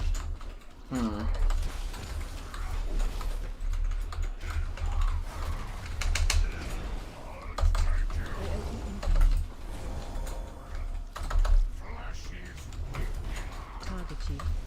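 Computer keyboard keys clattering in uneven bursts of typing, close and fairly loud, mixed with other game and room sounds while a voice talks at times.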